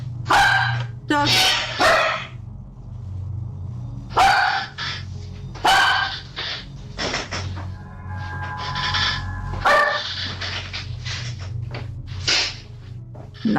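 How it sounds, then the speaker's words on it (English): A dog barks repeatedly in sharp, loud bursts with short gaps, close by, over a low steady hum, with some yips mixed in. "Dog."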